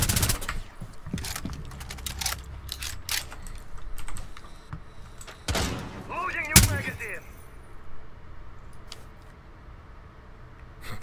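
Gunfire from the tactical shooter Rainbow Six Siege: a few sharp bursts, with the loudest shot near the middle, standing out over a steady bed of keyboard tapping and low game noise.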